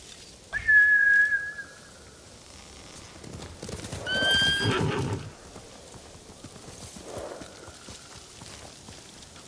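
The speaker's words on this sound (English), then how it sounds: "Bastards scared off the horses." Samurai horses in the Ghost of Tsushima video game neigh in a loud, shrill whinny early on, followed by a burst of galloping hoofbeats and a second fainter whinny amid outdoor ambience.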